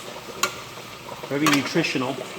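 Broccoli rabe pasta sizzles in a pan, a soft frying hiss with a stirring scrape, under someone talking close by.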